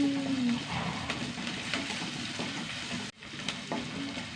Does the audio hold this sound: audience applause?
no